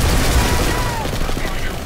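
Gunfire in the video game Planetside 2 as a large army attacks, a dense, continuous barrage of shots and booms, loud and busy, with a voice talking over it.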